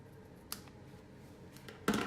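Scissors trim a piece of ribbon for a handmade card, giving two quiet, crisp snips about a second and a half apart against a near-silent background.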